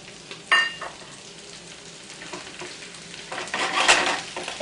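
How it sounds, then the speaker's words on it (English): Spinach sautes in olive or canola oil, giving a soft, close sizzle with a few sharp clinks and scrapes of a utensil against the pan. "You're just going to saute it in either some olive oil or some canola oil,"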